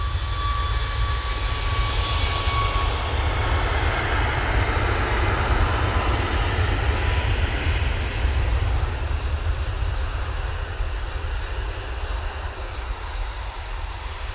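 A Virgin airliner arriving from New York JFK at Manchester Airport, its jet engines a loud, sustained roar that holds steady and eases off slightly toward the end.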